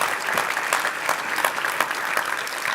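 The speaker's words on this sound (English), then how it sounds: "A warm round of applause for him." An audience at a business award ceremony in Bizkaia applauds with dense, even clapping that holds steady from start to finish.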